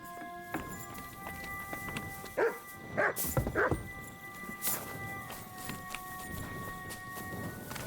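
A dog barks in the medieval role-playing game Kingdom Come: Deliverance 2, several sharp barks in a short burst mid-clip, heard over hoof clops, footsteps and faint ambient music.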